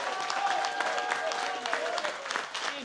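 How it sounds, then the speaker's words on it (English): Audience at a public discussion event gives a man a round of applause: brisk, close clapping with voices and cheering mixed in, dipping slightly near the end. "Can we give this man a round of applause?"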